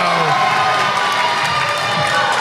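A packed gym crowd at a boys' high school basketball game in Belmore roars and cheers loudly, a dense continuous wash of shouting voices with excited children's yells near and far.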